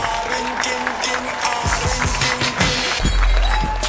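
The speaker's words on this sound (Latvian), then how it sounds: "Aplausi!" Audience at a Latvian stage competition show bursts into loud, dense applause mixed with cheering and crowd noise, with people talking and calling out over it.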